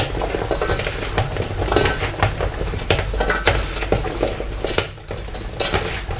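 Olives and celery tossed together by hand in a bowl, giving soft, continuous clinks and wet rustling as ingredients knock against the bowl, with no talking.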